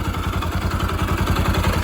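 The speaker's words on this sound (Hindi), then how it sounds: "अभी मैं आपको चालू करके सुनाता हूँ इंजन साउंड" A Bajaj Pulsar 200 motorcycle engine runs steadily at idle after a timing chain repair, its close, even low thumping beat carrying a faint clatter, with no voices.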